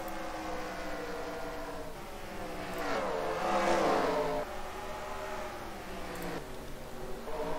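Race cars roar around the Bristol track in the NASCAR Racing 2003 video game, a steady engine drone that swells to a louder passing surge midway and then settles, with no talk over it.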